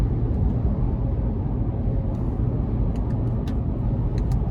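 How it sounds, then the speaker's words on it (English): Heard from inside the cabin, a 2014 Lexus GX 460 with a 4.6-litre V8, six-speed automatic and 115,000 miles hums on a test drive as a steady drone of engine and road noise that never lets up. "a pretty strong V8 And having that trusty 6-speed automatic is nice"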